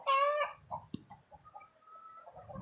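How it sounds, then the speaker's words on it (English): Jersey Giant hens and a rooster clucking up close, a loud burst of calls at the start followed by softer scattered clucks and murmurs. "Chickens come in all different shapes and sizes."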